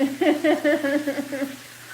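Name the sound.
hamburgers and cheddar brats frying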